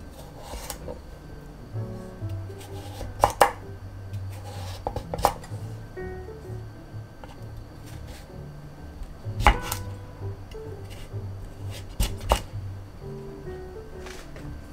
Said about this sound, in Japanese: 火が通りやすいように小さめに切っておきます。